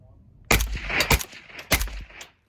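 An M70AB2 underfolder rifle fitted with a Dead Air Wolverine suppressor fires a few close, muffled shots in quick succession, each a dull thump with a short tail, ending in silence.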